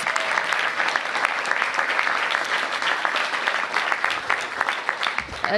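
At a DC bill signing ceremony, the audience breaks into steady, full applause with crisp individual claps, holding level before trailing off at the very end.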